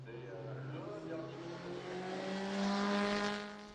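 A 1963 Alpine M63 vintage racing car at the Le Mans Classic, engine droning steadily with a rising pitch as it passes at a distance, continuous and fairly loud.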